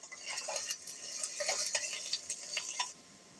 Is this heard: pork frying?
yes